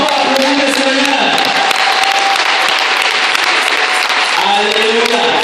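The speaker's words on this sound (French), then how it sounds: "Est-ce qu'on peut applaudir le Seigneur?" A church congregation in Yaoundé, Cameroon claps loudly and continuously, a dense wash of applause with a sustained sung or voiced tone underneath at the start and again near the end.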